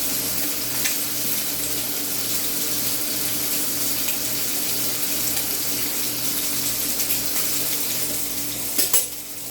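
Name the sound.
washing a knife under running tap water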